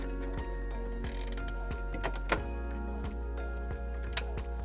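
10mm socket ratchet working a tail light bolt on a 2021-2025 Hyundai Elantra, with sparse light clicks and a few sharp metallic ticks over a steady low hum, close and fairly quiet.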